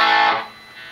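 Guitar run through the distortion of a Boss ME-50 multi-effects unit: a loud, buzzing burst of distorted tone that fades within half a second into a steady, faint hiss of noise.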